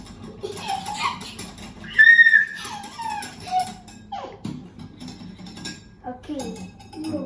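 A child and adult stir pancake batter in a bowl, a spoon clinking and scraping against the sides in uneven bursts, with a sharp clink near the middle and voices talking around it.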